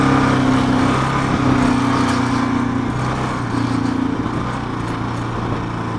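Kawasaki KLR adventure motorcycle engine running steadily while riding a rough road labeled as a road, a continuous droning hum with shifting tones as the throttle changes, loud and close throughout with no talking.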